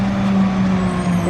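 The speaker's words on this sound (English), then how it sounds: "Ooh, we get to watch a garbage truck." A garbage truck passes close by outdoors, its loud engine drone rumbling steadily with a brief hiss near the end.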